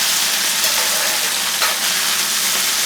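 A pan sizzles steadily and loudly as chiles fry for chile relleno salsa, a dense, continuous crackle with no pauses and no talking.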